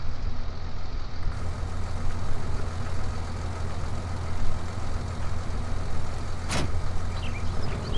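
A brand new tractor engine in Farming Simulator 19 runs with a steady, loud low rumble and continuous mechanical drone, broken briefly by a short sharp hiss partway through.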